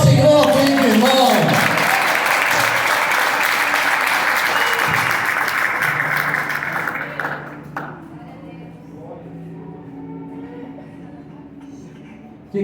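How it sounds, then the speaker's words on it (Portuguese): Loud, dense applause from a church congregation fills the first seven seconds, then fades out, leaving quieter room sound with a few faint taps. "Aplauda ao Senhor, querido irmão."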